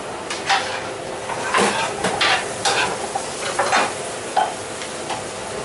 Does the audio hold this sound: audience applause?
no